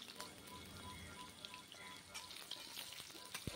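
Potatoes and pointed gourd fry slowly over low heat in a pan, giving a faint, steady crackling sizzle with a few soft clicks, quiet and without speech.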